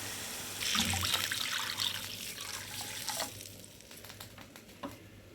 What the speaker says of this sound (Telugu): ఇప్పుడైతే మనం ఎసరికి వాటర్ పోసేసుకుందాం